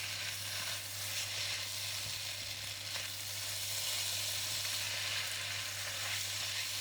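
Char kway teow flat rice noodles stir-fried and tossed with egg, a loud continuous hissing sizzle with a steady low hum underneath and faint scraping as the noodles are mixed, no voices.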